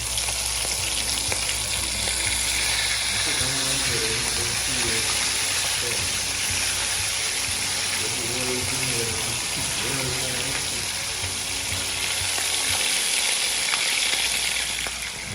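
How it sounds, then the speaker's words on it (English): Freshly caught fish cooking over an open fire on an island in Portland, Jamaica, giving a continuous sizzling crackle with voices talking over it partway through. "you know the fish on the fire, right?"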